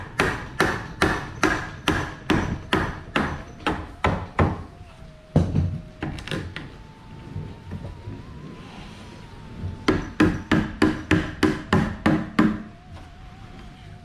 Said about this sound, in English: So now we're gonna feed the PVC through these here. I suggest that you get a rubber mallet.